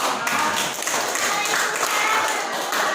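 Classroom applause from a group of students, a steady patter of hand claps filling the room at moderate loudness for a few seconds.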